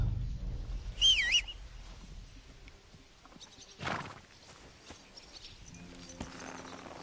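A horse summoned by the player in a video game whinnies sharply early on, followed by scattered hoof clip-clops and a second burst, with faint bird chirps in a quiet game background.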